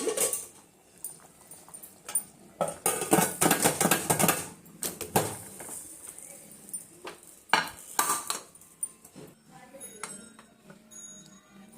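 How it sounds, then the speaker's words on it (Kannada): A pressure cooker lid is shut in a home kitchen over soaked rice and fenugreek-leaf pulao: a series of sharp metallic clanks and clicks in bursts, with quieter handling between. "ಕುಕ್ಕರ್ ಕ್ಲೋಸ್ ಮಾಡಿ ಎರಡು ವಿಸಲ್ ಹಾಕ್ಸೋಣ"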